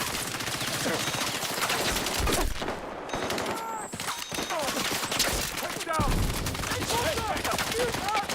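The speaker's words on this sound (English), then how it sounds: "That's a grenade." Dense bursts of gunfire fill a Halo Master Chief Collection match, with a grenade blast landing inside the steady, loud barrage of shots and explosions.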